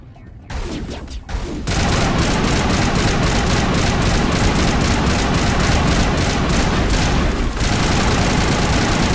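Enemies pour automatic weapons fire at the player in Mass Effect, a loud, sustained rattle of rapid shots that starts after a short quiet lead-in and continues almost without pause.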